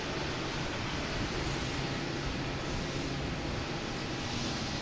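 A Spirit Airlines airliner takes off at Boston Logan Airport, a steady, broad engine roar with no voices.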